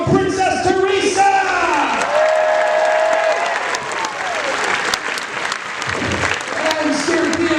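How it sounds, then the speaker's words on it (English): An audience at a renaissance festival breaks into loud, sustained applause with scattered cheers, and voices are heard over the clapping. "A nice round of applause for Princess Teresa!"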